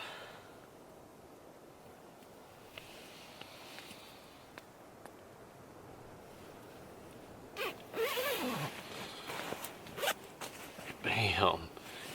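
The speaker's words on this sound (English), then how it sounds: "Zip it all up." A zipper on a winter hiking sleeping bag or stuff sack is zipped up in a few quick rasping pulls near the end, following quiet rustling of gear; a voice is heard in the quieter stretch.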